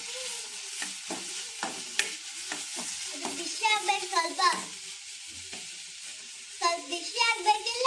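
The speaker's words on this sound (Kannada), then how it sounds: "ಮೆಣಸಿನ್ಕಾಯಿ ಹಾಕಿ ಆಮೇಲೆ ಫ್ರೈ ಮಾಡ್ತಾಳೆ." Green chillies frying and being stirred in a pan, with soft sizzling and repeated scraping strokes of a spoon, while a child and others chatter nearby throughout.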